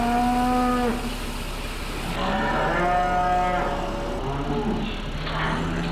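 Beef cattle on a farm moo loudly and repeatedly, several long overlapping calls from nearby animals following one another across the whole stretch, with no talking.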